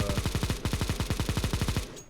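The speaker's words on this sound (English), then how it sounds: "the spray on the Negev" A Negev machine gun fires a long spray in Counter-Strike: Global Offensive, with about twenty loud, fast, evenly spaced shots broken by one brief gap. The shots then stop abruptly.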